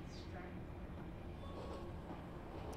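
A 0-4-0ST steam locomotive runs along in Train Simulator Classic on the Isle of Wight, giving a faint, steady rolling rumble with light rail noise throughout.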